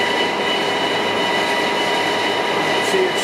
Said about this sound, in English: Then we have the main spindle motor.